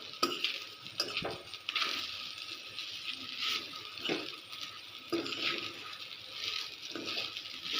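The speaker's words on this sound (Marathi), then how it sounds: "मी आता मिक्स करून घेत आहे" Sabudana khichdi stirred in a pan with a spoon, soft repeated scraping and light clinks of utensil against metal, close and fairly quiet, no talking.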